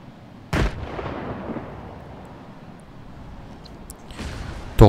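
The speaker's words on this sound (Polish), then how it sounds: "To chyba był dźwięk strzału, a nie burza." Gunshots in the shooter game S.T.A.L.K.E.R. 2: one loud booming shot with a long rumbling echo tail, then a second report near the end over steady ambient noise, no talking.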